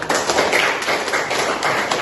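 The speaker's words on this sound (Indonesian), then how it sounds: "Tepuk tangan dulu, guys" A school class clapping hands together, dense quick claps close by in a loud, steady burst that lasts a couple of seconds.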